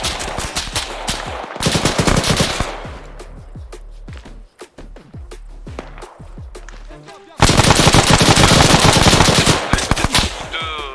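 Automatic and single gunfire from an Arma 3 military simulation battle, loud rapid bursts under French squad radio chatter, pausing briefly mid-clip before an intense, sustained volley of shots closes it out.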